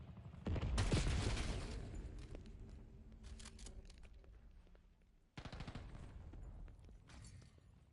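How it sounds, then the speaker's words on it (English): Gunfire in a PS5 video game: bursts of rapid automatic fire, loud and close, with a dense volley early on, a quieter stretch, then another sharp burst near the end, no talk. "Somebody's shooting at me, man."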